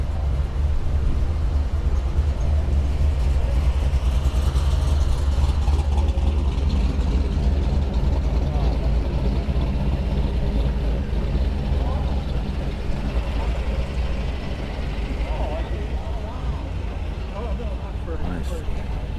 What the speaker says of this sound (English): Classic, get at that engine.